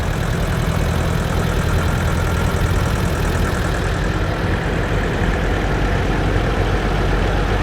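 A 1982 model 5020 antique tractor at a steam show, its engine idling in a steady low diesel rumble with an even knocking pulse, loud and close throughout, with no talk over it.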